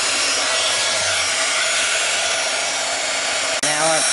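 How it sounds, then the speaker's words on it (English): A heat gun blows steadily and loudly at close range while warming a foggy journal cover, a continuous broadband whoosh that cuts out briefly near the end before restarting. "let me see if I can hold it and put the heat gun to it so you can watch it change"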